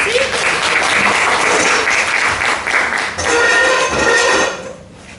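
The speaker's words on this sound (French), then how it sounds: "Allez, applaudissez." An audience claps loudly at a French department book distribution ceremony for students, a sustained burst of applause that fades out near the end.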